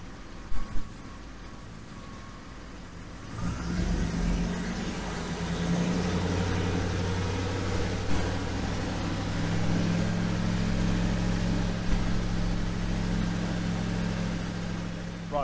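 A Triumph Stag engine fitted with twin Stromberg CD 175 carburettors runs steadily at 1500 RPM, giving a continuous low, even drone that starts a few seconds in, with wind rushing over it outdoors.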